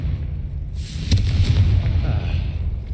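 A Confringo fire spell in Hogwarts Legacy bursts with a sharp crack, then a rumbling explosion that swells and trails off over a low, steady background.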